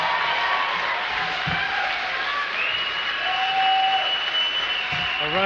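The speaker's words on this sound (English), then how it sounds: "Keep clapping." An audience applauds at a concert at SUNY Binghamton, New York, in 1990: steady, moderate clapping spread across a crowd, mixed with lingering tonal hum and a few faint voices.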